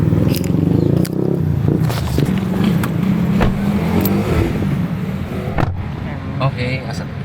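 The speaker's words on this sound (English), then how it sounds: "Let's go find a taxi. And there's a taxi." A taxi car drives along a road amid loud, continuous traffic rumble and engine noise, with scraping and passing-vehicle swells close by.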